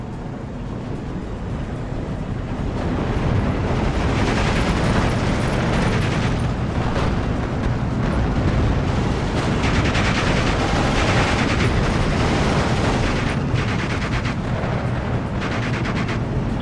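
A bombing run with gunfire in the WWII strategy game Steel Division 2: constant loud rumbling explosions and artillery-like blasts mixed with rattling machine-gun fire, swelling after a quieter start and staying dense to the end.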